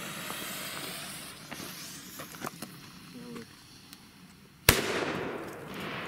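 Böller firecrackers set off around New Year's Eve: scattered small pops and crackles, then one sharp loud bang followed by a sustained hissing spray, with faint voices in the background.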